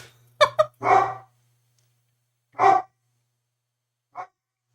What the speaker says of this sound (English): So Dolly's going to bark for a couple more minutes